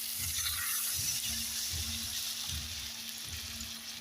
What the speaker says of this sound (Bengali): এখন এর মধ্যে আমি জল দিয়ে দেবো সামান্য পরিমাণে।